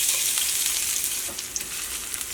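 Crushed garlic and ginger with cumin frying in hot oil, a steady close sizzle with faint crackles and an occasional stir, no voices.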